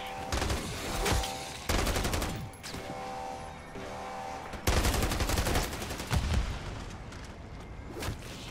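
Dense bursts of rapid gunfire crack through a zombie fight in MW3 Zombies, coming in loud, overlapping volleys with brief pauses between them.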